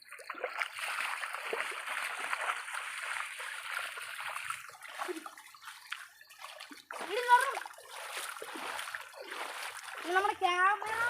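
Waterfall water near a home rushes and splashes in a steady hiss that thins out midway, then gives way to voices, including a child, talking over the softer water.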